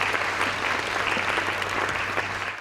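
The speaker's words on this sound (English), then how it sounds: "Give them a round of applause again." Audience applause at a business economic update event, steady dense clapping from a crowd throughout, fairly loud with a low hum underneath.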